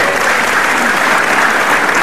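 Studio audience applause on an Indonesian TV talk show, a dense, loud, steady clapping that fills the whole stretch without pause.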